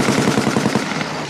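A machine gun fires a continuous rapid burst of closely spaced shots, loud and sustained throughout with no pauses.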